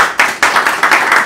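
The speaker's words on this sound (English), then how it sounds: "Let's put our hands together for him." Audience clapping in bursts for a Permanent Secretary of Civic Engagement at a courtesy visit to the Lagos State governor, loud and close, several swelling rounds of applause with no talk over them.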